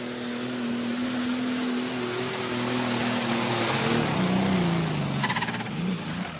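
A turbocharged, methanol-fuelled Limited Superstock pulling tractor engine roars loud and steady at a tractor pulling event, its pitch wavering and rising partway through, with no talk over it.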